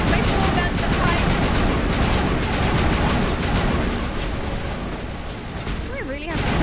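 Dense, continuous rapid gunfire and booms from the Mass Effect video game, loud and sustained for several seconds before cutting off, with faint whooshing effects near the end.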